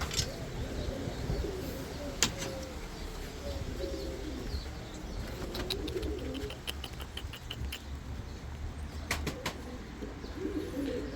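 A crested silver pigeon coos in a coop, low soft coos repeating under a general hum of the coop, with occasional sharp clicks and a rustle of wings nearby.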